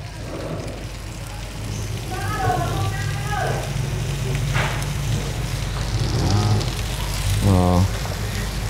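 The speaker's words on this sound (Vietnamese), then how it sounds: "Cho nên cái bếp nó cứ xèo xèo thế hay nhỉ." Food sizzles on a cooking stove at a farm where bamboo rat is being cooked, a steady close hiss that runs throughout under intermittent talking voices.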